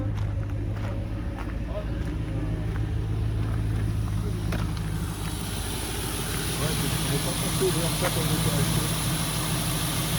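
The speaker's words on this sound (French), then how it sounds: "elle commence à tourner comme une patate là pendant qu'on est en train de la faire chauffer" A Rover fitted with a Mustang V8 idles roughly while warming up, suffering from a blown head gasket: a low, uneven engine rumble runs throughout, close and steady, with people talking over it.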